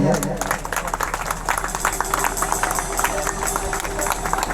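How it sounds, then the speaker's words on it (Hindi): Audience applause at a church parish event in Rourkela during a gift presentation, steady dense clapping mixed with crowd murmur and some voices throughout. "आप लोग ताली बजाते रहिए"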